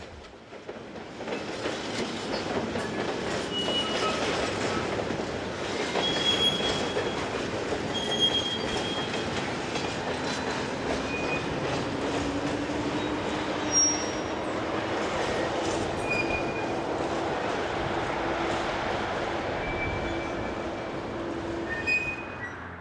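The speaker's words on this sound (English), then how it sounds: "The same loco heads a freight through Saint-Malo on the 23rd of May 2003." A French BB26000 electric locomotive hauls a freight train through Saint-Malo, a long rolling rumble of wagons with clicking wheels and drawn-out squealing from the rails, steady and moderately close throughout.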